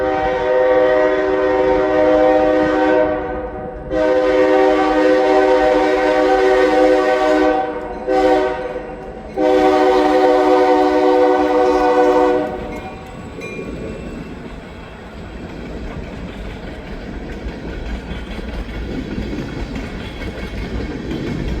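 A freight train passes close by, its horn sounding in long loud sustained blasts with brief gaps for the first twelve seconds, then giving way to steady rumbling and clattering of railcars rolling along the rails.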